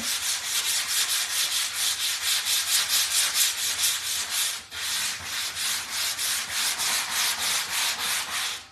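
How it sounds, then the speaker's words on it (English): Wood sanded by hand, steady rhythmic back-and-forth rasping strokes about twice a second, close and loud with one brief pause midway and no voices. "Just sand it good."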